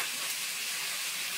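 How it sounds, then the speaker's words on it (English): Pork belly fries in sugar in a hot pan, giving off a steady, loud, even sizzle and hiss throughout, with no voices. "rule number 1 of frying pork belly in sugar."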